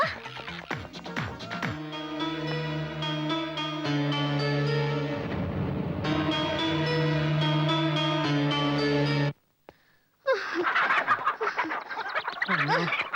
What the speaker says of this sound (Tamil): கோழி குட்டி.